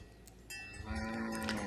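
Cattle herded in a rural setting give a low, drawn-out moo that swells in the second half. It is faint and heard alone, with no talking.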